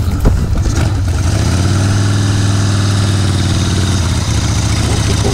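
A Harley-Davidson motorcycle engine starts with a rough burst, then settles into a deep, steady, throbbing idle that stays loud and close, and the pitch shifts slightly near the end.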